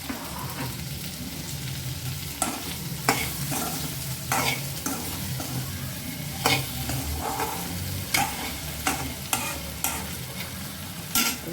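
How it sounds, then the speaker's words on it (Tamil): Okra frying in hot oil and being stirred, a steady close sizzle broken by repeated sharp scraping and clinking strokes of the spoon against the pan. "அப்படியே இந்த எண்ணெயிலே கொஞ்சம் அது வெந்து கொஞ்சம் நல்லா வதங்கி வரட்டும், சுருண்டு வரட்டும்"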